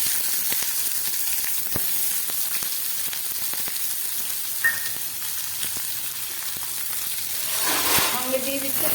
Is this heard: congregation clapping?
no